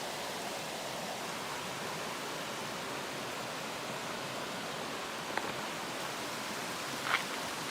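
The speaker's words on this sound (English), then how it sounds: "we are at Kepstig Mill, and this is the river behind us" Steady, broad rush of river water flowing behind Kepstig Mill in the Ozark National Scenic Riverways, a continuous even wash with a couple of faint brief knocks near the end and no voices.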